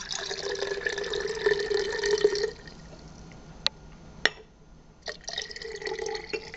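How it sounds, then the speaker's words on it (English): Pineapple wine must poured into yeast, a close, steady liquid stream filling a vessel, stopping briefly with a few drips and clinks of glass, then flowing again. "We'll go ahead and pour the whole thing in."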